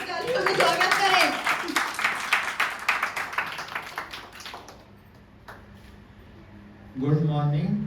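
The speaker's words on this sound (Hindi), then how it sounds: "इनका जरा जोरदार तालियों से स्वागत करें" An audience claps to welcome a guest at an Independence Day celebration held by a yoga group; the rapid, dense clapping is mixed with a talking voice, then fades into a brief lull before a voice speaks loudly again.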